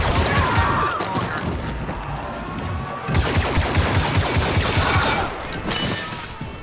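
Blaster and gunfire battle in Star Wars Battlefront II, dense rapid bursts of shots and crackling fire with heavy booms, loud and close, in waves with brief lulls.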